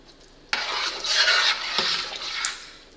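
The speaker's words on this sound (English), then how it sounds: "Give it a good stir." A chili spice mixture of California mild and pasilla pepper powders with oregano is stirred in a pot for a no-bean game day chili. A spoon scrapes and rasps against the pot in a few close strokes, with no voices.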